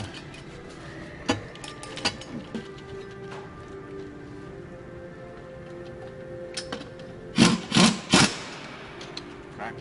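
Bolts are tightened by hand on the intake manifold of a Cat 3406 diesel engine, giving faint, sparse mechanical ticks and clicks over a low steady background, with a cluster of louder clicks near the end.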